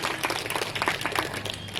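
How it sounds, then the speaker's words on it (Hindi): Audience applause at a health talk in New Panvel, a dense wash of many hands clapping steadily for the whole short stretch at moderate loudness, with no speech over it. "ताली बजाइए सभी इनके लिए"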